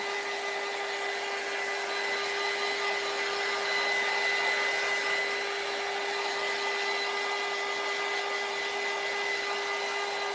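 A hair dryer blows steadily and close for about ten seconds, drying a Valentine craft made from an Amazon shipping bag, with an even whine and no talking.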